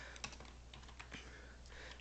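A computer keyboard clatters with quick, uneven keystrokes as an email address is typed in to log in, close and fairly quiet, with no voices.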